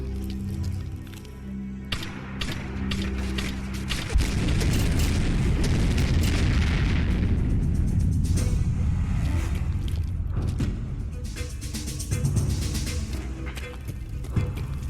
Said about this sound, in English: I'm definitely gonna use the grenade launcher